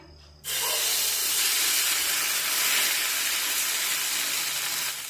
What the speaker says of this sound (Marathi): तेल सगळीकडे पॅनमध्ये पसरून झाल्यानंतर त्यामध्ये पळीभर बॅटर पसरून टाकूया